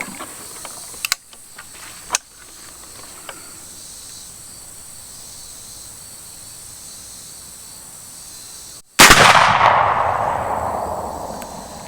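One sharp, loud report from a .50 caliber Hawken traditional muzzleloader rifle, near and sudden, with a long fading rush and echo afterward. Before it comes a quiet stretch of insect chirping and a few faint clicks.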